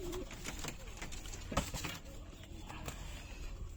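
Pigeons, kept Madras giribaj pigeons, coo softly amid a steady background murmur, with brief patter and a sharp knock partway through.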